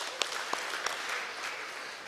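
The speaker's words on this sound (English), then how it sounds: "Please give them a big round of applause" Audience applause for two singers at a Rotary Club seminar, fairly soft and steady, with a few sharper individual claps standing out from the crowd.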